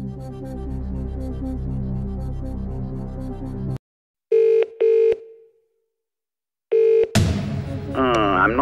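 Telephone dialing and ringing for the Phone a Friend lifeline in the Who Wants to Be a Millionaire 2nd Edition DVD game, short repeated ring bursts after a stretch of music, followed by a sharp sting.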